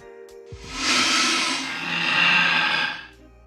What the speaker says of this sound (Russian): и шипение гуся.